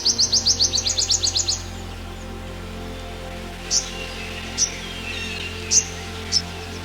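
A bird in the Borneo rainforest gives a quick run of rapid, high chirps, followed by a few single sharp calls spaced apart, over a soft steady background hum of the forest.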